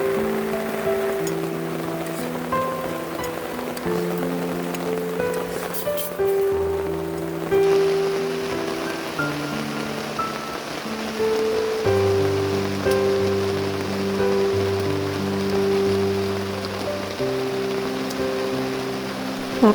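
Rain falls steadily on a tent at night in a misty forest campsite, a continuous patter with scattered louder drops, close and fairly loud, with no voices.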